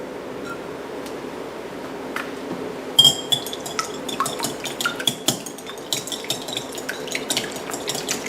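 Three eggs beaten in a bowl for a pâté en croûte binder, a quick run of close, bright clinks of utensil against bowl after a quiet start, steady and rhythmic, with no talking.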